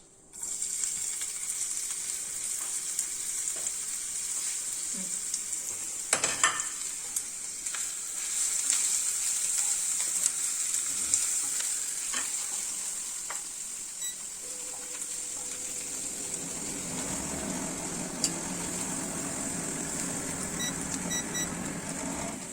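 Kingfish fillets sizzle steadily in hot oil as masala paste is added to the pan, a continuous close frying hiss with a brief clatter and a louder, deeper burst of sizzling near the end.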